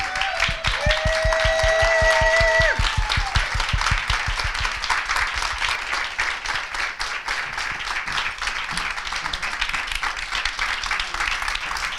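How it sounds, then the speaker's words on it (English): Sustained applause from an audience, loud at first with a few cheers, then settling into steady clapping that carries on throughout. "Let's give our MC a round of applause."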